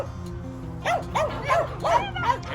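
A Westiepoo dog gives a run of short, yipping barks and whimpering yelps while playing with three-week-old puppies, four or five playful calls at close range over a low background hum.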